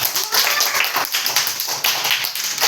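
A classroom of children clapping together on cue, a quick run of sharp, close claps in a steady rhythm.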